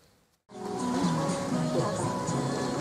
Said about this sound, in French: Et la pluie qui, à nouveau, nous honore de sa présence.